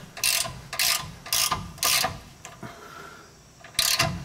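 A hand ratchet loosens a sway bar bushing bolt on a vehicle, giving close, rhythmic bursts of clicking, about six strokes with a short pause before the last one.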